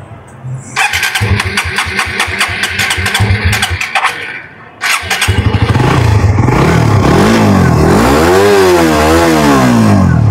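A Suzuki GSX-R150 motorcycle engine runs loud and close, sputtering in choppy bursts before settling into a steady rumble that revs up and down.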